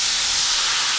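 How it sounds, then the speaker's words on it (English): A hot steak pan hisses loudly as white wine hits it to deglaze, a sharp, dense, continuous sizzle right up close with no voices. "We're gonna deglaze with some white wine."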